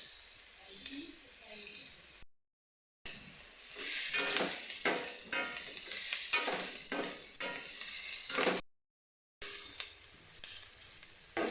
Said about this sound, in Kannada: ಈ ಥರ ಉಳ್ಳಾಗಡ್ಡೆ ಫ್ರೈ ಮಾಡಬೇಕು